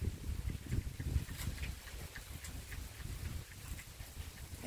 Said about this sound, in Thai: ให้ฟังเสียงฝนกับลมก่อนนะคะฟังไปเรื่อยๆนะคะ